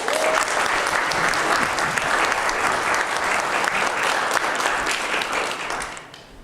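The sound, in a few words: audience applause for speaker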